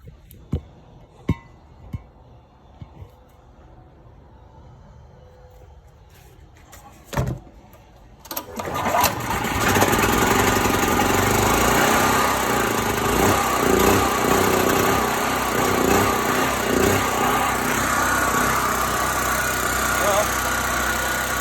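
A small engine with a freshly worked carburetor gets a few clicks and short tries, then catches around eight seconds in and keeps running at a loud, steady idle with a slightly uneven rumble.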